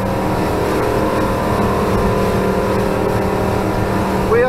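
Larson 290 Cabrio motorboat running flat out near 50 mph, a loud, sustained engine roar with hull and water rush, rising slightly in pitch near the end, with no voices.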